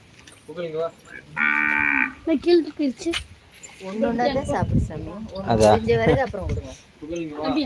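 A cow moos during a Friday cow worship ritual, with loud, drawn-out lowing calls rising between stretches of nearby talk as people feed the animal.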